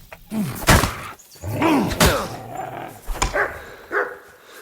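Dog companion Mutt in Kingdom Come Deliverance 2 barks and growls during a fight, several loud close barks and snarls mixed with heavy thuds and impacts.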